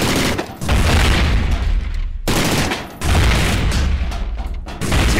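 Robots in the Smashball video game are charged for knockouts, giving loud rapid bursts of crashing, gunfire-like booms in three blasts separated by short dips.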